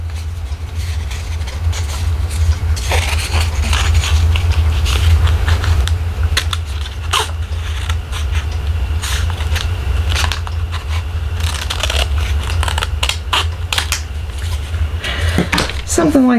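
Scissors cutting off a paper belly band for a handmade card, with crisp snipping and paper handling close by over a steady low hum, while a person talks throughout.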